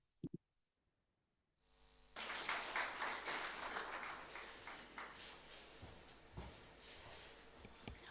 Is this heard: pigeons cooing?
no